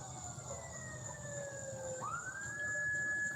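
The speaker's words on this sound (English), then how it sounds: "I think that's an ambulance." An ambulance siren wails at a distance over steady background noise, its pitch sliding down and then jumping back up as it passes.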